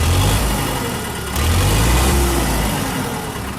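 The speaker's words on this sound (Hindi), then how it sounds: "थोड़ा स्टार्ट होने में दिक्कत आई क्योंकि 10-15 दिन से खड़ा हुआ है ट्रैक्टर" Tractor engine idling after a hard start, having stood unused for ten to fifteen days; a loud, steady low chugging with a slight swell in revs midway, close and alone.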